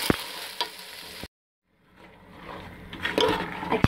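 Black chickpeas get stirred into frying onions, a near sizzle with spoon scrapes that cuts out briefly to silence, then returns and builds into louder stirring.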